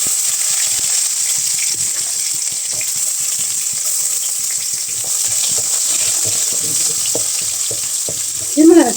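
Garlic and onion frying in oil for a taro root curry, a loud, steady, hissing sizzle that runs without pause, with small crackles and a brief stir near the end.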